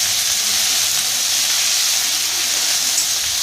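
Onion paste sizzling in a hot pan of oil for a Bengali fish curry, a steady loud frying hiss that holds evenly from start to finish without speech.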